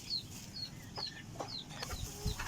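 Backyard gamecocks clucking, with several short, high calls scattered over a low, steady background rumble and no talk.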